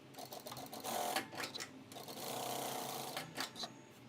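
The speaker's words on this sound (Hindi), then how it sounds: "तो उल्टी ओर से इसे ऐसे रखकर हमें सिलाई कर लेना है चारों तरफ से।" Sewing machine stitching around the side panel of a boat-neck princess-seam blouse, running in steady bursts of fast mechanical needle clatter with short pauses, close and moderately loud.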